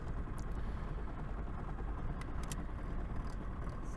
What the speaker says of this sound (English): So lifting foot off the clutch and accelerator down, and we're off.